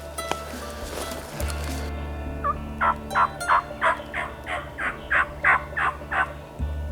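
Wild turkey gobbling in an Ohio spring woods, a rapid series of about a dozen loud, rattling gobbles in quick succession over a steady outdoor hum.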